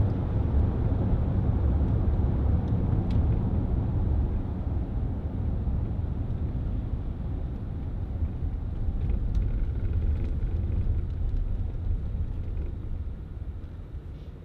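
A 2010 Range Rover Sport 3.6 TD V8 diesel driving on tarmac, with a steady low engine and road rumble from inside the cabin throughout.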